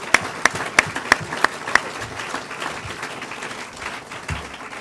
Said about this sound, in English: I would like a round of applause for them.